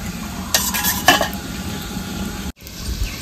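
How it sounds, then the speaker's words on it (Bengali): Mutton curry being stirred in a pot with a spoon, the meat frying and sizzling steadily while utensils scrape and clink against the metal in a few close bursts. "চাপাটা খুলে নেড়ে নেব একটু।"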